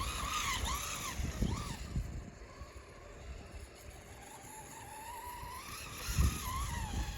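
A Traxxas Slash 4x4 VXL radio-controlled truck runs on a snow track, its electric motor whining up and down in pitch as it speeds into a corner, with bursts of louder revving at the start and end.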